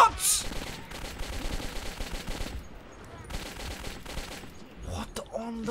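Rapid gunfire from a first-person shooter set in the Metro 2033 tunnels, continuous bursts of shots running through most of the stretch with brief gaps, mixed with game noise and a little voice.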